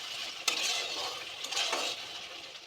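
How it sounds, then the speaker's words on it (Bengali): Spice paste being sautéed in hot oil in a pan for a Katla fish curry, a steady sizzle under occasional scrapes and clinks of a spatula stirring against the metal, close and continuous with no talking. "ভালো করে কষিয়ে নেব যতক্ষণ পর্যন্ত তেল না ছাড়বে"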